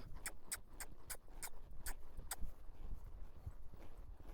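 Horse hooves loping in an arena make a faint, even three-beat clip-clop at moderate distance, fading after a couple of seconds into soft background noise.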